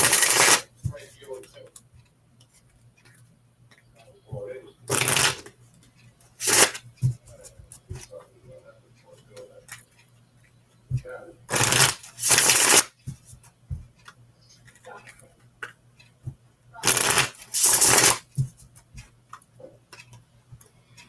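Tarot cards shuffled in several brisk bursts, each a second or so long, spaced across a quiet stretch with a soft voice murmuring between them.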